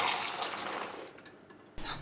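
Cooked soya beans being drained for miso, with a loud rush of water gushing out that gradually thins and trickles, then a short clatter or splash at the end, close by, with no voices.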